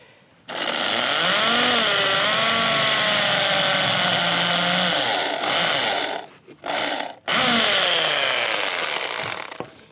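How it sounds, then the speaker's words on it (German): An electric drill with a 6 mm bit bores holes in a flower pot being made into a birdhouse, a loud continuous whine that shifts in pitch under load, with brief stops and restarts near the end. "Vielleicht sollte ich die Bohrmaschine auch mal einstöpseln."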